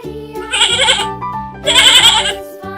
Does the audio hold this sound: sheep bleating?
yes